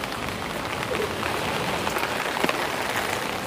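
Steady rain pours on a Tokyo street in Shibuya, a dense, even hiss of drops hitting pavement with occasional louder splashes, continuous and close with no voices.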